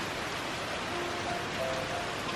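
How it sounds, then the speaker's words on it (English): Heavy rain at a country home, a dense, constant broadband patter and hiss with no letup and no voices, filling the whole moment evenly. "I have to actually film this rain because it's just, it's so great."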